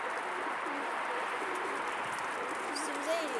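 Pigeons cooing in a Turkish rooftop pigeon loft, a steady bed of low, rolling coos from several birds close by, with a faint chirp near the end.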